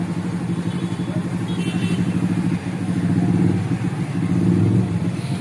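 Jammed traffic of cars and motorcycles crawling near a temple in Narayanpur during Guru Purnima crowds, engines droning and idling close by in a continuous low rumble with occasional revving swells.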